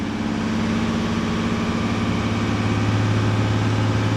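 Ford Mustang engine running steadily at about 2,500 RPM while overheating, a continuous loud low hum with an even mechanical drone and no talk over it.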